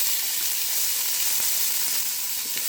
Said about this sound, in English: I'm going to go ahead and add our 1½ onion.